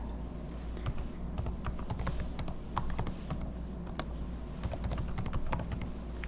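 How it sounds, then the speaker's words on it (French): Rapid clicking of a computer keyboard as a command is typed on a Linux NAS server, with quick irregular keystrokes close by over a faint steady background hum. "je vais taper la commande"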